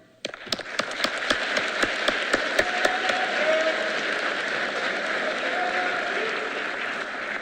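Audience applause at an ROC cresting ceremony honoring a cadet, a steady wash of clapping that starts abruptly, with a few sharp louder claps standing out early, sustained and fairly close for several seconds.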